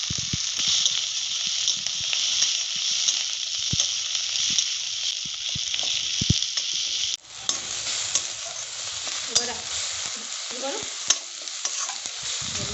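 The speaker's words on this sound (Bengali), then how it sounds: "টমেটো কুচি দিয়ে দিলাম।" Chopped tomato goes into hot oil over fried onion paste for a tilapia curry, making a steady loud sizzle with scraping stirring strokes. It briefly drops, then resumes with bubbling crackles.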